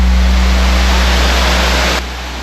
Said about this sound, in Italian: alla base della cascata di questo flusso d'acqua che passa sotto il ponte della Veia